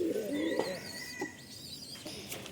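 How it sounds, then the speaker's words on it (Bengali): Pigeons coo on a rooftop garden, soft, low rolling calls close by, mixed with a few thin chirps and faint background noise. "তো কবুতর তো দেখিয়ে দিলাম"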